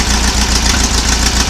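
An engine under test, a tight rebuilt 2276 with good oil pressure, runs steadily at idle with a dense, even rumble and faint knocking rhythm, close and loud with no talk.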